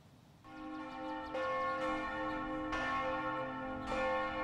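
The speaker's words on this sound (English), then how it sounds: "The bells were ringing out for Easter morning." Church bells ring out on Easter morning in Wilmette, Illinois, with several loud, resonant strikes that overlap and sustain in a long ringing wash, heard alone without talk.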